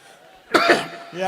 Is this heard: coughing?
yes